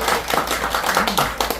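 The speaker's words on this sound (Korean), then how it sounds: "자, 박수!" Audience members at a lecture-hall seminar clap, a loose spatter of distinct hand claps at close range, uneven in rhythm and fairly loud, with a faint voice underneath.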